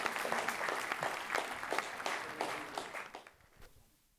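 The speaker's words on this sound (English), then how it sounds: "Applaud him all the way up here, folks." An audience at a live evening event claps and applauds as a performer walks up to the stage, a dense burst of clapping that gradually fades out toward the end.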